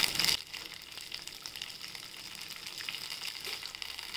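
Tomatoes hit hot oil in a pan while bhindi thecha, a spicy okra relish, is being cooked. A loud sizzling burst at the start settles into a steady, softer frying hiss.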